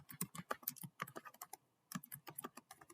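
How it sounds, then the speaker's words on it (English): Quick, light clicking of keys on a computer keyboard comes in two brisk runs with a short pause between them, close and quiet with no one talking. "you want to type in the title"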